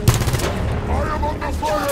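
Steady, rapid gunfire from the shooter Halo 5: Guardians during a Covenant attack aboard the UNSC Argent Moon, a dense, continuous rattle of shots with brief spoken lines mixed in.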